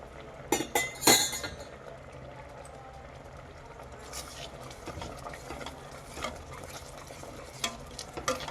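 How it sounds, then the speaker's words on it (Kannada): Hot water is poured into paneer curry gravy and stirred, with a cluster of clinks and scrapes against the pan at first, then softer intermittent stirring and a faint simmering sizzle. "ಈಗ ಬಿಸಿನೀರನ್ನ ಆ್ಯಡ್ ಮಾಡ್ತಾಯಿದ್ದೀನಿ"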